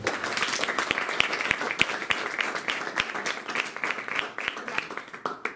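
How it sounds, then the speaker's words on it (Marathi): An audience at a meditation session claps for themselves, a dense run of many hands clapping at once, lively and sustained before gradually thinning out toward the end. "खाली हात घ्या आणि स्वतःसाठी टाळ्या वाजवा."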